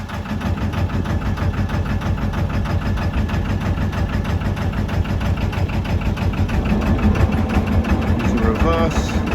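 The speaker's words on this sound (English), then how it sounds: "the idea is keep the engine running on the boat" Boat engine idling in neutral, a steady low rhythmic throb with a mechanical knocking pulse that rises slightly in level toward the end, heard up close with wind and possible voice underneath.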